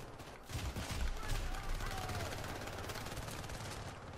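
Turret gunfire in the Syndicate co-op video game, a dense continuous rattle of rapid shots with mechanical clatter that swells after half a second and keeps going, with players talking over it.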